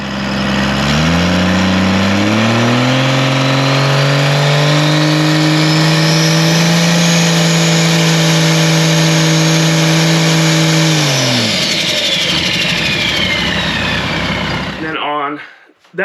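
A turbocharged drag car engine at Edgewater Motorsports Park launching off the starting line, a loud, close revving drone that climbs in pitch, holds steady, then drops away as the car pulls off, ending in near silence.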